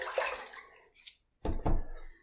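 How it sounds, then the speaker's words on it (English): Water splashed by hand onto a shaved head during a razor shave, heard as two short, close wet splashes after a quieter watery rustle. "let me throw a little water on the head"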